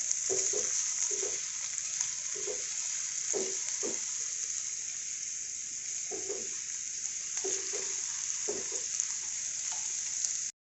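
Ginger-garlic paste fries in a pan over a low flame for stuffed capsicum, a steady close sizzle broken by regular scraping strokes of a spoon stirring it through.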